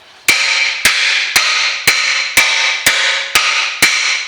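A hammer strikes a rusted brake disc on a Toyota Corolla eight times in a steady rhythm, each loud metallic clang ringing on between blows.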